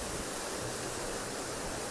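Dholla Kadhu Falls pours with a constant broadband rush of flowing water, an even hiss with no breaks, moderately faint and with no voices over it.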